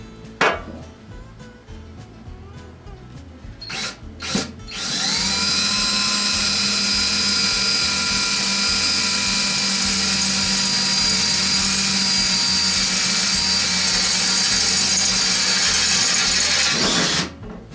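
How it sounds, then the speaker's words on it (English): A few short clicks and bursts, then a power drill whirs loudly and steadily for about twelve seconds before winding down and stopping. "Let me drill these out."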